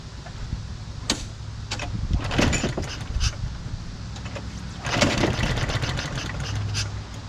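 A push mower engine fitted with a weed eater carburetor runs unevenly near the listener, surging and sputtering with a constant low drone and bursts of louder revving, with no talk.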